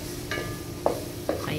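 Meat sizzles and crackles in a hot pan while a utensil scrapes and stirs a few times, close up.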